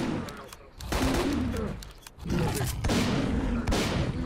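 Dense gunfire fills a S.T.A.L.K.E.R. Faction Wars battle, loud rapid bursts that run almost without pause apart from one brief lull, with a voice faintly under the shooting.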